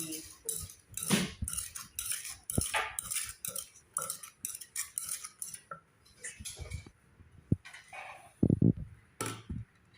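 Crispy pork being chopped with a knife in a home kitchen, giving quick irregular crunchy taps and clinks against a board and dishes at moderate loudness.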